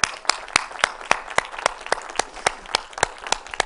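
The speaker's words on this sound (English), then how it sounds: "Let's clap for each other." A small audience at a neuroscience workshop claps together in a steady, even rhythm. The claps sound fairly close and distinct, about a dozen of them, with no talk over them.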